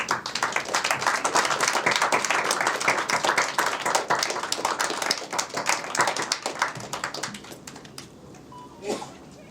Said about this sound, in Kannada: ಎದ್ದು ನಿಂತ್ಕೊಂಡು ನಿಮಗೊಂದು ಚಪ್ಪಾಳೆ ಕೊಡೋಕ್ಕೆ ಇಷ್ಟಪಡ್ತೀನಿ